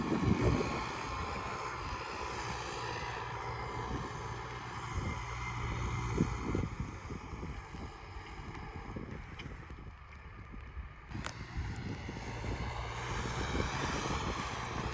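A heavy 110-horsepower Basak 2110S tractor engine rumbles steadily and loudly throughout, labouring while pulling a disc harrow through hard soil, with wind buffeting the microphone and no voices.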